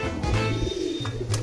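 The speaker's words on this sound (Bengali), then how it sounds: "সামনে যে গিরিবাজটা যেটা ডাকছে, যেটা ঠোকরাচ্ছে ওইটা" Close, low cooing of a Giribaz pigeon in a loft, repeated in two soft, rolling phrases with a faint chirp and other birds in the background.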